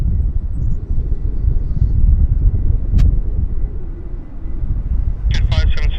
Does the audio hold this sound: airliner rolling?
yes